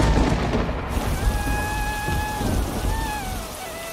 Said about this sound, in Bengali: আবার যে বৃষ্টি নামলো